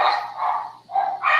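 Dogs barking close by in a home, quick repeated barks and yips coming in two bursts with a short gap between them.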